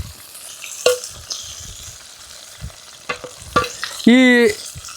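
Garlic and dry red chillies fry in hot oil for a tempering, giving a low sizzle under scattered stirring knocks and scrapes, with a brief squeaky scrape near the end.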